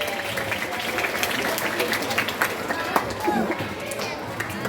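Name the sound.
applause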